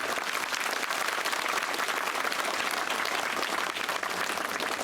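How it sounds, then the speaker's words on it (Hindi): Crowd applauding at a Lok Sabha 2024 election rally in Gadi Barod, Shivpuri, a dense, steady wash of clapping that stays loud and continuous for the whole span with no pauses. "अब बजाओ ताली।"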